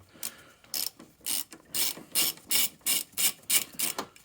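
A ratchet socket wrench turns a 13mm bolt on a 1994 Jaguar XJS V12 facelift, giving a series of about nine rapid rhythmic clicking bursts that grow more regular, close and clear with no talk.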